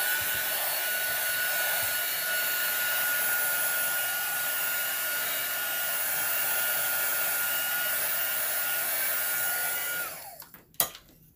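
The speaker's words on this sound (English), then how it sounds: "I'm going to dry this down a little bit because I want to add a little bit of pink" A hair dryer blows steadily on alcohol ink painted on a ceramic Christmas tree. The close, loud, continuous whoosh holds for about ten seconds, then cuts off with a few small clunks.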